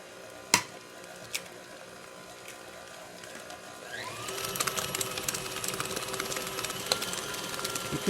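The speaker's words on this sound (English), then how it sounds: "You can turn your mixer up a little bit between each egg just to make sure that it gets blended into the batter very nicely." An electric mixer beats eggs into batter, starting with a couple of sharp knocks before a steady mechanical whir rises and runs on close and moderately loud.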